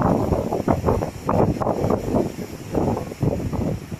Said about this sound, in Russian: Вот такое ветрище, ужас.